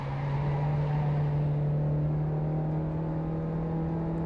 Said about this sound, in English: you can hear the tyres more than you can hear the car